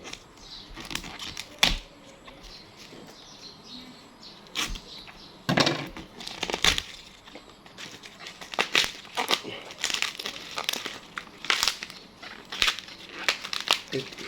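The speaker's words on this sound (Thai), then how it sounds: "กรีดหน่อไม้เสร็จปุ๊บแล้วก็ แหกเลยค่ะทุกคน แหกเลย" Fresh bamboo shoot husks are ripped and peeled apart by hand after being slit, giving repeated sharp crackling tears in bursts, close and fairly loud, with a voice speaking faintly in between.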